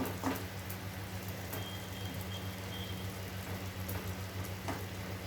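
Garlic fries in a pan over a low flame for an egg garlic fry, giving a faint, even sizzle that holds steady throughout with no voices.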